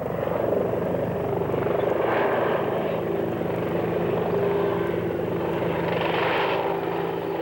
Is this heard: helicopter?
yes